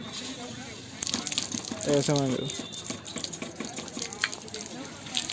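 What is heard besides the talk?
water flowing from foot-pressed water pump at Hastinapur fort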